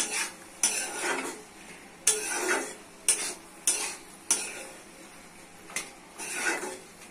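A potato, egg and tomato curry is sautéed and stirred in a pan, with repeated sharp scrapes and clinks of a spatula against the metal over a low background sizzle, arriving in irregular bursts.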